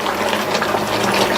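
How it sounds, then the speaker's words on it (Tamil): Water pours from a vessel into a pan of jaggery while payasam is made, a continuous splashing, gushing rush that stays close and fairly loud, with no talking. "இந்த மாதிரி லைட்டா தண்ணி சேர்த்துட்டு இந்த வெள்ளத்தை நல்லா கரைய விட்டுறலாம்"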